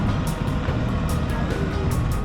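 An RV driving slowly in a park, with a steady, loud low engine rumble and road noise throughout and faint, regularly repeating high beeps over it.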